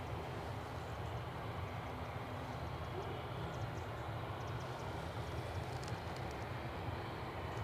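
An SAS Airbus A320neo arrives from Stockholm at Edinburgh Airport, a faint, distant, steady roar of jet engines that holds without a break.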